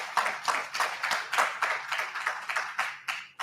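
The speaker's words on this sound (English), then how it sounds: "Give a round of applause for Brother Stevie Moore." An audience at a law and education symposium applauds a panel guest with steady, fairly close rhythmic clapping that fades out near the end, no talking.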